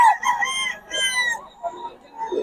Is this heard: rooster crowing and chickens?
yes